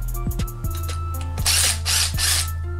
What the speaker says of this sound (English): So I got this drill bit right here.